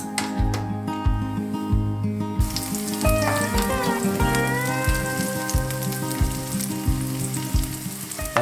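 Portobello mushroom and fresh asparagus tips fry in a pan with a continuous bright sizzle and crackle. A rhythmic music track plays underneath.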